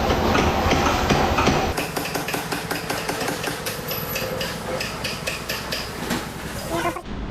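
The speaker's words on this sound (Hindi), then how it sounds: "हथौड़ा वहाँ पे मार रहा भाई" A hammer strikes the handlebar of a Yamaha R15 M motorcycle again and again, giving loud, closely spaced metallic knocks that run steadily for several seconds and stop abruptly at the end.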